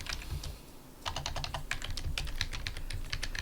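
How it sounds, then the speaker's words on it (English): Typing on a computer keyboard while formatting a paperback book in Microsoft Word: rapid, close key clicks in an uneven stream, with a brief pause before a denser burst of keystrokes. "The first couple pages I will be hand typing"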